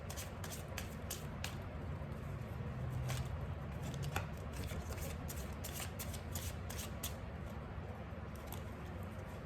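Tarot cards are shuffled close and quietly, with a steady series of soft riffling flutters and light slaps repeating throughout.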